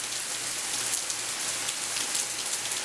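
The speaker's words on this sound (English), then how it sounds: "This is the first rain. It just started raining" Steady rain falling on surfaces at the start of Hurricane Isaac in Arkansas, a dense continuous patter of drops, fairly close and even throughout.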